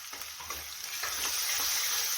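Garlic cloves and onion sizzle steadily in hot oil, a continuous close frying hiss with a few soft stirring scrapes, no voices.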